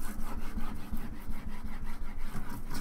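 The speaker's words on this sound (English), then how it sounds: "go ahead and flip this over and burnish again our score tape" A bone folder rubs back and forth over score tape on paper, making a steady rhythmic scraping and rasping close by, with no talking.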